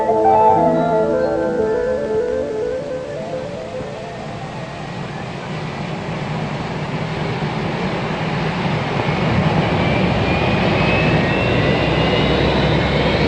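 The four jet engines of a Boeing 747-100 roar steadily at high power during run-up in snow and freezing temperatures, a loud continuous rush with whining tones drifting upward as the thrust builds.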